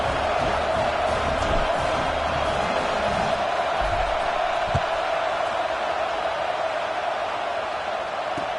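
A large football stadium crowd murmurs and cheers at a moderate level after a score, a broad steady wash of voices with a faint whoop or two partway through.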